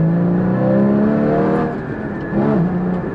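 Porsche GT4 sports car with a changed exhaust, engine droning steadily with a brief dip and then a rise in revs, heard close over a few seconds without talk.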